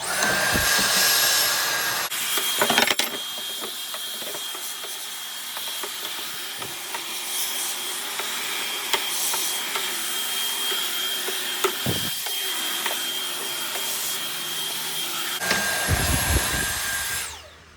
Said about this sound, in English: Now we're going to do some cleaning in here, again with our vacuum.